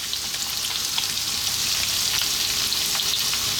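Onion and ginger frying in oil alongside potatoes for a fish curry, a loud, even hiss of sizzling with faint stirring scrapes, close by and uninterrupted, without speech.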